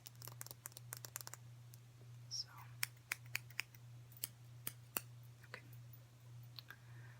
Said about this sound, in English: here are my scissors. And like I said, I'm just trimming off the dead ends